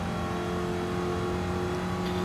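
A Corvette C2 with its 327 cubic inch engine, about 5.4 litres, in a Le Mans racing video game, holding a loud, steady buzzing drone with strong harmonic tones throughout.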